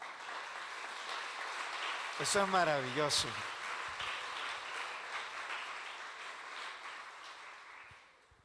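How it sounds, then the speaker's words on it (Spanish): Church congregation applauding during a Spanish-language sermon, a steady broadband wash of clapping under a preacher's voice that rises and falls, fading out near the end. "Dele un aplauso al Señor."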